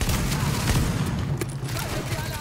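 Repeated gunfire in The Division, a third-person shooter, with a pump shotgun firing in quick succession over dense game noise and low rumble.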